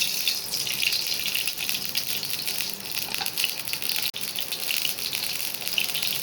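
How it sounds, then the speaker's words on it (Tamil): Oil pours into a pan set on the stove for idli upma, a steady bright hissing gush with faint sizzling crackle running evenly for several seconds, close and alone without talk, broken by one brief tap. "சட்டி வச்சு எண்ணெய் ஊற்றிக்கலாம்"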